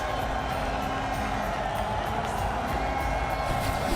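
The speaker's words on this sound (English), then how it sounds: "the fans continue to cheer for some excellence from Haris Rauf" Cricket crowd cheering steadily in a stadium during a Pakistan versus Namibia T20 World Cup match, a dense, continuous roar of many voices at constant loudness with no clear pauses.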